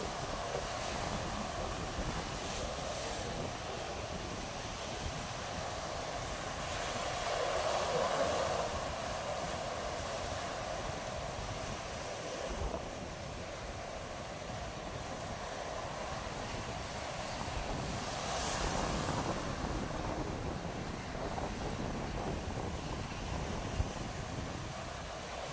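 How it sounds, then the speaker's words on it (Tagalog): Waves crash and collide along a shoreline strewn with floating trash, forming a continuous roaring surf with swelling surges and heavy wind rumble, and no voices. "Nagsasalpukan ng alon eh."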